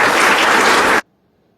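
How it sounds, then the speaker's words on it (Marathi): Loud, dense applause from an audience at a school gurukul ceremony, sustained for about a second before stopping abruptly into silence. "त्याच्या देखील आपण जोरदार टाळ्या वाजवू"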